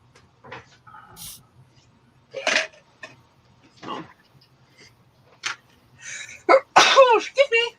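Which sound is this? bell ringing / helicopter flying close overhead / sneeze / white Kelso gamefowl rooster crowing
sneeze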